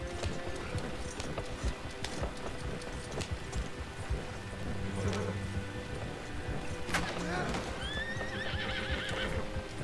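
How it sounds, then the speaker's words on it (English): A horse in the video game Red Dead Online clip-clops steadily through a cornfield, letting out a whinny partway along, with faint birds in the background. "Taking my horse through the cornfield to go to the Walmart's."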